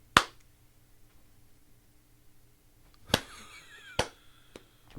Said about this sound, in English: I was clapping.